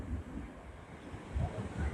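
Ocean waves wash onto a beach at Mullaitivu with a continuous rushing surf and wind buffeting the microphone, swelling louder toward the end.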